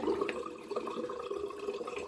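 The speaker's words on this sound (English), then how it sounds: "I'm just gonna pass it under water. Cold water, by the way." A bar of Arko soap is rinsed under a cold running tap, a steady close splash and trickle of water with small intermittent drips and no talk.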